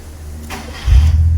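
A Proton Wira car with a manual-to-automatic gearbox conversion starting up in Park: a brief starter crank, then the engine catches and settles into a loud, steady low idle close by.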